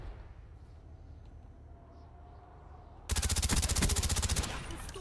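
Rapid automatic gunfire from Call of Duty erupts loud and close after a quiet stretch, a steady burst of evenly spaced shots lasting nearly two seconds.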